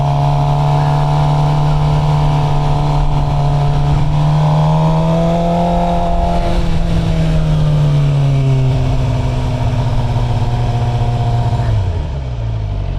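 A Suzuki GSX-R750 motorcycle engine while riding, a loud close drone whose pitch climbs through gears, dips and sweeps with each shift, then falls away as the throttle closes near the end, with no voices.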